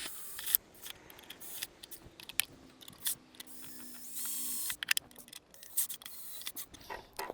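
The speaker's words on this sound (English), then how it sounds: "all we have to do to secure it is to tighten these clamps" Hose clamps being tightened onto a post while a soil moisture sensor is installed in an orchard, heard as close, irregular ratcheting and scraping clicks in short bursts, with a brief squeaky whine in the middle.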